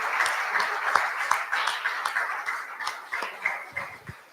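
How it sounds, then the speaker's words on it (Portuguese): Scattered applause from a small church congregation during a morning service, with irregular claps carrying on steadily at low volume. "Aplaude o nome de Jesus."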